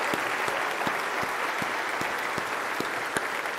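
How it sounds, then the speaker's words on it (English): Steady, full applause from a crowd honoring President Law, a dense wash of clapping with a few sharper individual claps popping out regularly throughout. "Let's give President Law a round of applause."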